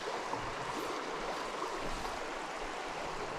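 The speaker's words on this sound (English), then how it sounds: "Right in those rapids" Broad, steady rushing of creek rapids on a mountain stream, continuous and fairly close, with no voices over the constant watery wash.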